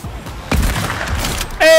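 A hunting rifle in Fortnite Chapter 2 Season 3 fires one close, booming shot with a short rumbling tail, followed by a sudden loud ringing game tone at the end.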